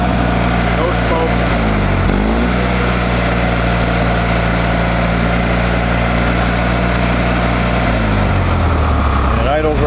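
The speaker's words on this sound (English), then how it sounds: "And it idles right down. It's one of the best running Kohler KT, well, it's not a KT, a Magnum I've ever heard." Kohler Magnum engine on a Simplicity Sunstar 20 garden tractor idling steadily, a continuous low drone with a brief throttle dip near the start and end, close and loud.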